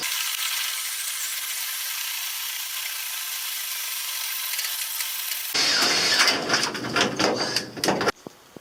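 A power drill's steady mechanical whine drones, then gives way to a harsher, louder grinding with rapid stuttering bursts as it drills through metal, before it cuts off abruptly.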